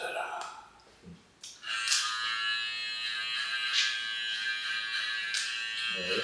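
Babyliss Lo Pro FX hair clippers run with a steady, close electric buzz that settles in after a brief stop-start, with voices talking around it.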